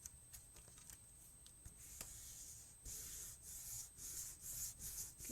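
Scored cardboard pieces of a construction trifold are pressed together and rubbed along the seam, giving soft dry scuffing strokes that build into steadier, louder rubbing in the second half, close by with no talk.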